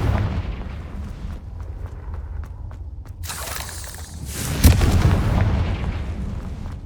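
Confringo blasting spell in Hogwarts Legacy: a sharp, bright blast bursts out, followed moments later by a heavier booming explosion that rumbles and fades, over a low background hum.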